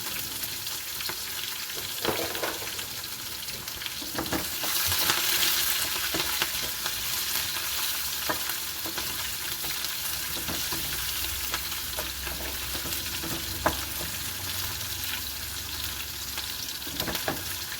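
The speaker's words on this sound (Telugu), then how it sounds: "ఎండుమిరపకాయలు, ఉల్లిపాయలు, పచ్చిమిరపకాయ ముక్కలు, ఒకసారి కలుపుకుందాం." Dried red chillies, onions and green chilli pieces fry in a pan for a potato fry while being stirred, producing a continuous sizzle broken by scraping stirs and an occasional sharp clack, with no talk.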